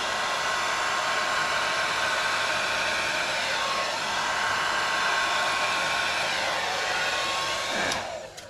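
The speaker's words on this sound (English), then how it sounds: "I want to try the dryer on low heat to start with" A hair dryer on low heat blows with a steady, even whir for several seconds over an acrylic pour painting, then cuts off with a brief click near the end.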